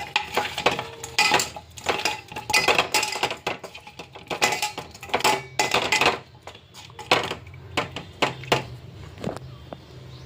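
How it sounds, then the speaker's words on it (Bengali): Koi fish are mixed by hand with raw oil, salt, turmeric and dry chili powder in a metal bowl, giving irregular clinks, scrapes and wet squelching bursts, close and fairly loud, without talk. "আর আমি এখন মেখে নিব কই মাছগুলো"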